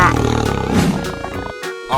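A tiger roars in a 3D animal slide video game, a loud growling roar over upbeat game music and sound effects.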